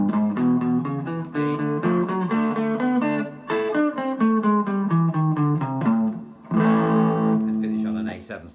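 A bright electric guitar plays a quick descending run of notes, ending on a final ringing chord.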